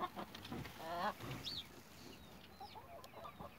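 A hen named Olivia with her young chicks, including a weak, just-hatched one, on a cold, foggy morning: soft, low clucks come in a short burst near by, followed by faint, high chick peeps.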